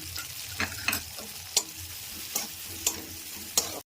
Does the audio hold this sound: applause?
no